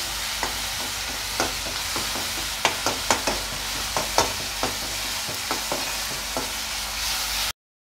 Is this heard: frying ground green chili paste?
yes